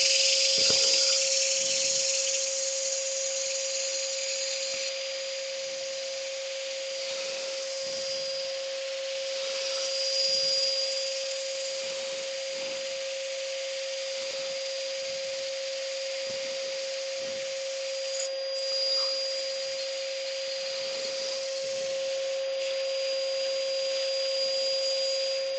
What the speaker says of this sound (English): So I'm just going to sand this up to 240